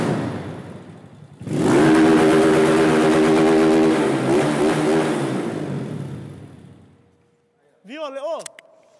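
A Honda Titan 160 motorcycle engine with an 8mm kit and high-flow injector revs loudly and close, a sustained roaring drone with shifting pitch that fades out, followed by a brief burst of voices.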